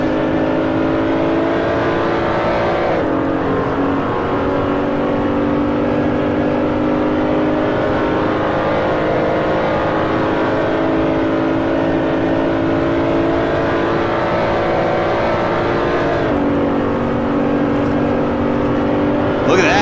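A BMW Z4 race car in a racing video game, its engine a steady, close, continuous drone with brief dips at gear changes around the third and sixteenth seconds.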